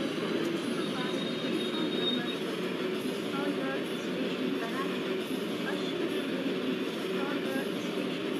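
A GOC WDP4D diesel locomotive pulls an express train out of Chittorgarh Junction in Microsoft Train Simulator, a steady low engine drone and rolling wagon rumble running continuously at moderate loudness with no voices.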